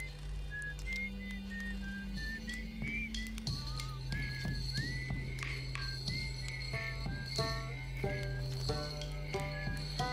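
A character whistles in the video game Outer Wilds, a wandering tune of short high notes over a steady low hum and soft game sounds, with no talking.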